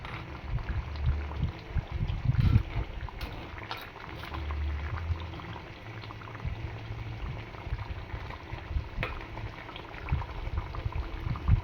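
Andhra-style vanjaram fish curry with raw mango simmers in a pot, giving a steady low bubbling and gentle liquid churning throughout, fairly quiet and without talk.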